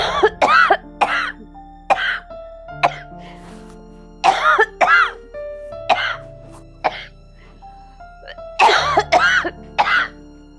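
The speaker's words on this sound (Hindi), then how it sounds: "तबीयत खराब हो रही है और खांसी रुक नहीं रही है" An elderly woman coughs and clears her throat over and over in harsh, separate bursts, with short pauses between them and faint tonal music underneath.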